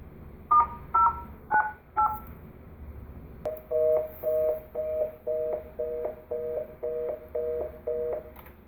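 Telephone keypad dialing tones during a call transfer: four higher beeps, a short pause and a click, then a quick run of about ten evenly spaced lower tones, close and clear with no talk.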